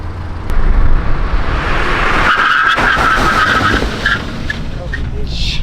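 A VW Golf R brakes hard from 120 km/h on a raceway track, its tires skidding and squealing loudly for several seconds over steady engine and road roar, with a voice faintly audible.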